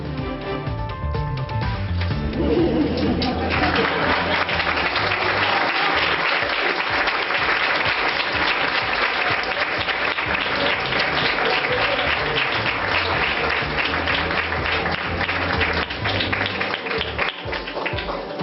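Applause rings out for Carmen Calvo at a government swearing-in ceremony, starting thinly and swelling into long, steady clapping from the assembled room.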